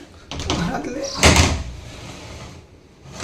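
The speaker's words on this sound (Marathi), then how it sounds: "दरवाजा पण बंद करू." A door is pulled shut inside a house in the dark early morning, giving one solid thud midway, with a voice and faint room rustle around it.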